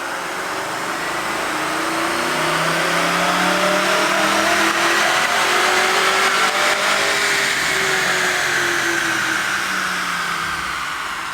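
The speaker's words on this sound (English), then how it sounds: "let's go ahead and make a dyno hit here and see exactly how much power this thing makes" A supercharged 2024 C8 Corvette fitted with a Magnuson supercharger runs a full pull on a dyno, its engine note climbing steadily through the rev range in one long, loud, sustained wail with supercharger whine above it, then easing off near the end.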